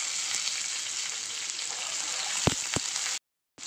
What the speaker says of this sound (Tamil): பெரிய வெங்காயம் சேர்த்திடலாம்.